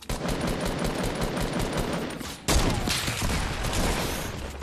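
Dense, continuous gunfire from a shooting video game fills the whole stretch with overlapping rapid bursts, loud and close, getting harsher and heavier about halfway through.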